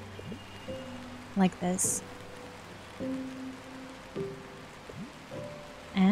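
Rain falls steadily in the video game Until Then, a soft, even patter under a voice speaking, with brief tonal chimes over it.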